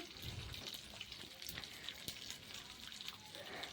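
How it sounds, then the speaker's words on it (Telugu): Onions, tomatoes, curry leaves and garlic frying in oil for a village-style chicken curry, a faint continuous sizzle with soft crackles and pops throughout. "వేసేసి ఫ్రైకి చేసుకోవాలి బాగా వాడనివ్వాలి నూనెలో"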